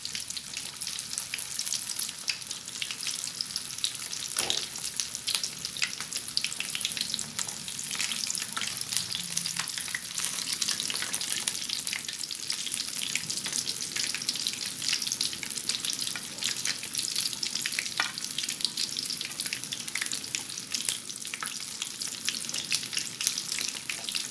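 Steady crackling sizzle of bitter melon deep frying in hot oil, loud and continuous throughout, with occasional sharper pops and stirring noises.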